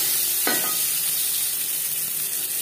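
Chopped onion drops into hot oil already frying black cumin seeds, a steady broadband sizzle with a brief louder crackle burst as it lands, continuing evenly close by with no talking.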